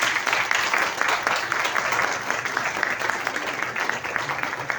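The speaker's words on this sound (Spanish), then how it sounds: "Damos por concluida la presentación con un fuerte aplauso a la doctora Talía." Sustained applause from an audience at the close of an architecture faculty presentation, dense steady clapping filling the room, loud and continuous without a pause.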